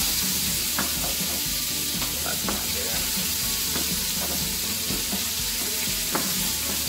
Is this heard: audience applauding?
no